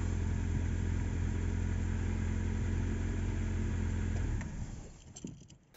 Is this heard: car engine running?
yes